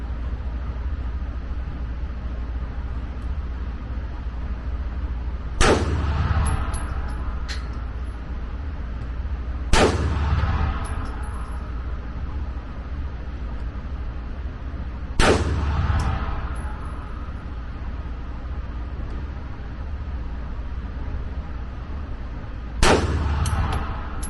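Pistol shots ring out during a shooting drill, four sharp reports spaced several seconds apart over a steady low outdoor rumble, each with a bright metallic ring as it strikes a target.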